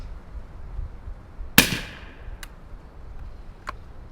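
A single sharp, muffled shot from a suppressed .450 Bushmaster rifle cracks out in an otherwise quiet, gusty outdoor setting, followed by two faint distant ticks.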